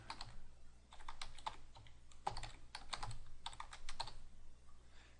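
Keys clatter on a computer keyboard in quick, uneven bursts of typing while an admin username and password are entered during a Drupal website installation; the sound is close and fairly quiet, with no talking.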